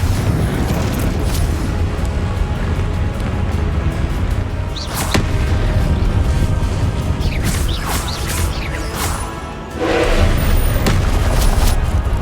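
Loud fiery blasts from the Confringo spell in Hogwarts Legacy, with sharp booming bursts around five and ten seconds rising over a dense, continuous rumble of in-game action and ambience.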